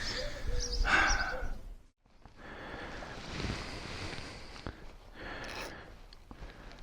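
A Yamaha Virago motorcycle with a carburetor problem cranks into a rough, bogging, misfiring run. A brief cut-out near two seconds gives way to uneven, rumbling engine noise with wind buffeting the microphone.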